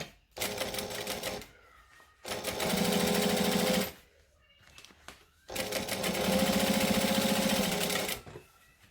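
Sewing machine back stitching a bag in bursts: two long, loud runs of rapid mechanical stitching, each preceded by a shorter burst and separated by near-silent pauses, close up with no talk.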